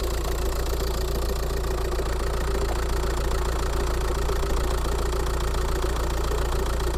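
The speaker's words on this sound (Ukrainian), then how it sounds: "Вже чути, як гупає двигун знизу" A Volkswagen T5 van's failing diesel engine idles steadily up close with a constant rough, rapid knocking clatter from below and low rumble, no voices.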